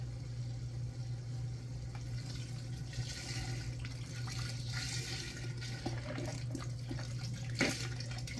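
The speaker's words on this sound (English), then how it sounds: "we're going to add a 32-ounce carton of low-sodium beef broth" Low-sodium beef broth poured from a 32-ounce carton into a pot of beef chili with beans, a steady liquid pour running throughout with a few small splashes and clinks near the end, close and fairly quiet.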